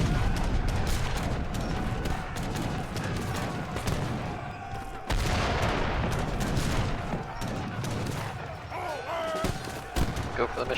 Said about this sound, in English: Got a mortar out, trying to take down these walls.